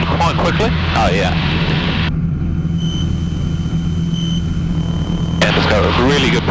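A small light airplane in flight just after a short-field takeoff, with a steady, close engine drone throughout. People talk over it at the start and at the end.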